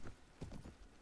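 Horse hooves in Mount & Blade: Warband clip-clop in a quick, quiet rhythm of several soft thuds, faint and close.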